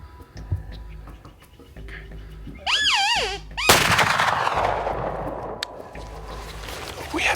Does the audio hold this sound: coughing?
no